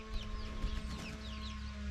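Rooster and chicken calls on a village farm over a steady low hum, clucks and crowing sounds fairly distant amid outdoor noise.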